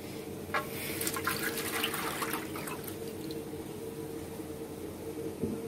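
Milk with starch being poured for an Ashura dessert, a continuous liquid pour with splashing and trickling close by, tapering off toward the end.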